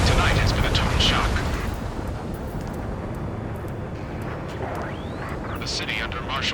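Gunfire and explosions in the Ace Combat 7 combat flight game, a heavy rumbling blast that fades into a continuous roar with scattered sharp cracks, while voices talk over it.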